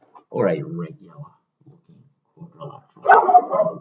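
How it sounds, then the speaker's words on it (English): A pet dog barks and yips in short sharp bursts close by, one bout near the start and another near the end, mixed in with a person talking. "Apologies if you could hear my dog barking just before."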